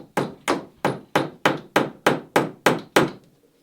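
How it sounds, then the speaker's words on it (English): Eight evenly spaced hammer blows drive a finishing nail into a wooden boat frame for a Catalina Wherry, each sharp, close, ringing strike decaying quickly before the next. "I'm going to put a finishing nail in right up here where it hangs over the shear line"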